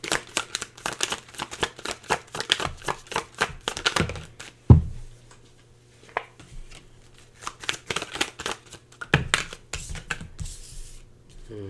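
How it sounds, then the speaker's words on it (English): Tarot cards being shuffled by hand in a steady run of quick riffling bursts, close and fairly loud, with a couple of sharper taps as the deck is squared partway through. "Just give me a moment to pull some tarot here for you"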